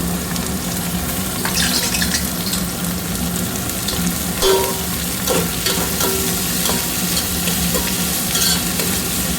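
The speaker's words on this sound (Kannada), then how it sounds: "ನಾನಿಲ್ಲಿ ಸ್ವಲ್ಪ ಹೆಚ್ಚಿಗೆ ಒಗ್ಗರಣೆ ಮಾಡ್ತಾಯಿದ್ದೀನಿ." Oil for tempering with tomato sizzles and crackles steadily in a pan, with occasional stirring scrapes and small pops throughout, close and continuous.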